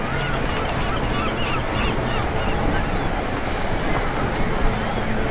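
Inside the video game Deus Ex: Mankind Divided, steady surf and wind wash continuously beneath honking, goose-like bird calls, forming a dense, loud coastal ambience with no pauses.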